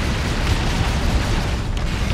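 A Manticore strike explosion in a Warhammer 40K video game, heard as a loud, continuous rumbling boom that fills the whole stretch with dense, steady roar.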